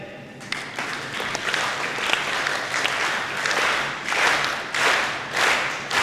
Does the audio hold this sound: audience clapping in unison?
yes